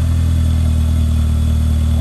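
A mid-pitched all-terrain vehicle engine runs steadily at idle, a constant low rumble with no change in speed across the short stretch.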